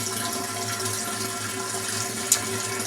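Homemade root beer poured into a keg, a steady soft rush of liquid with one brief clink, faint and alone.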